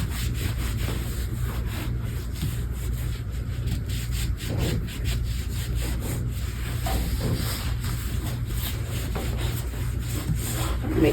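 A cloth soaked in TSP cleaner rubs back and forth across a wooden kitchen cabinet, a steady, close scrubbing rasp under a constant low hum, with no talking.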